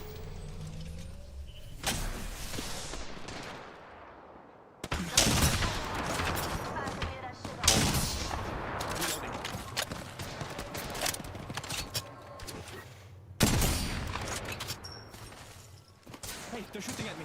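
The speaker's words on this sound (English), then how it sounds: "Hey, they're shooting at me." Enemy gunfire in a video game arrives in loud rattling bursts and separate shots, with brief lulls between volleys and a player's voice talking over it.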